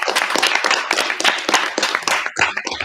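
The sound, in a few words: audience applause at geography bee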